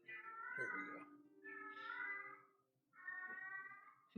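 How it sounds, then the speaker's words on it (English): A domestic cat mews three times in drawn-out, harmonic calls, each a second or so long with short pauses between, fairly close and clear over a faint low background hum. "That is my cat mewing."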